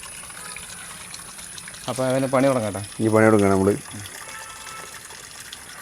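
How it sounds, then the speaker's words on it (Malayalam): Water runs steadily into a tub being filled to wash a blanket, a constant moderate gush that carries on the whole time while someone speaks briefly over it. "അപ്പോൾ ഏകദേശം വെള്ളം നിറയാറായിട്ടാ."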